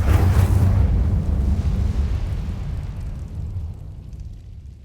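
A fire spell cast in Hogwarts Legacy, a deep explosive burst up close that booms loud at first, then rumbles and slowly fades over several seconds with no voices.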